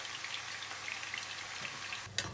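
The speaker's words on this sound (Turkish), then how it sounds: "Şimdi patateslerimizi kızartıyoruz." Potatoes fry in oil that sizzles and crackles steadily with a busy, hissing spatter, a faint clunk near the end.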